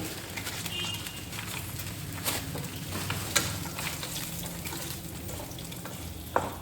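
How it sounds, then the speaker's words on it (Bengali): Lentil dumplings (bori) frying in hot oil over high heat in the pan after the fish, a constant close sizzle with occasional sharp pops, no talking. "এতে বড়িগুলো ভেজে নেব।"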